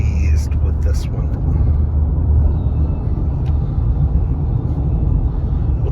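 A high-mileage Honda Pilot SUV, around a quarter million miles, runs steadily on a test drive, a constant low engine and road rumble filling the cabin with no break.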